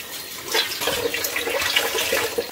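Heated water pours and splashes steadily into a container for a half bath at a rural farm home, a close continuous gushing sound.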